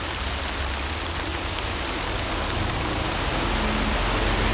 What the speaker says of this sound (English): Meanwhile, back in Bridge of Weir, Mr. and Mrs. McCoist are cycling in the rain.